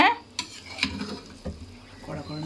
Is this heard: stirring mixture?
yes